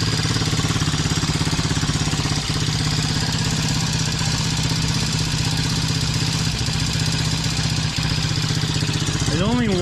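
A small four-wheeler ATV engine runs steadily at close range, a loud buzzing mid-pitched drone holding constant throughout with slight revving near the end.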